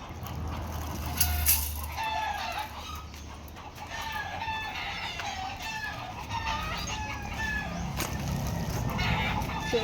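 Chickens cluck and a rooster crows repeatedly at a rural countryside home, moderately near, over steady outdoor background noise.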